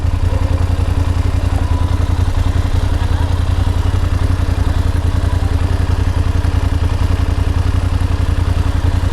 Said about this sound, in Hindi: अब हम करेंगे बाइक को स्टार्ट